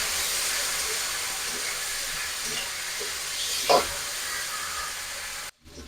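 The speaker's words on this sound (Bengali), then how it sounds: "ডাঁটাটাকে একটু ভেজে নেব।" Tender moringa drumstick stalks fry in hot oil with a little salt in a pan, giving a steady close sizzle and hiss that swells briefly partway through, then stops abruptly.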